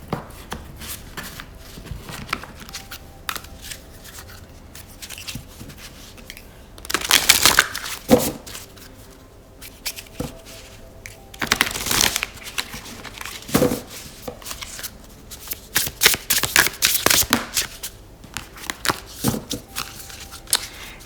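Tarot cards are shuffled by hand, a soft papery riffling and shuffling that comes in irregular bursts, louder flurries around the middle and toward the end, close and with no talk.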